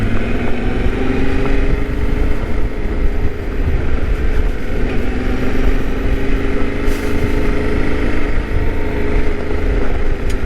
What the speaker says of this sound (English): Just letting the gravel take the bike and the bike take the gravel here.